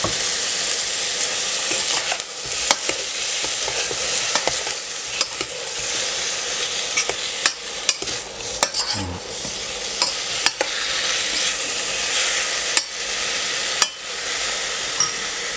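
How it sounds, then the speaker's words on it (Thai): Pineapple pieces going into a pot of pork belly for Thai clear pineapple soup give a steady, close sizzling hiss with scattered stirring clatters and knocks throughout, with no talking. "ตามด้วยสับปะรดนะครับ ก็ใส่ลงไปเลย"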